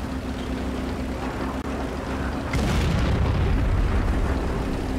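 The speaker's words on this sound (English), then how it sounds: "We got artillery firing at us now?" Artillery shells hit near a Sherman tank in World of Tanks. A steady engine drone runs until a sudden heavy blast halfway through, then a louder, sustained roaring rumble continues.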